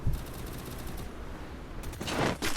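Rapid automatic gunfire in a battle royale shooting game, dense continuous bursts of shots filling the whole stretch and growing louder toward the end.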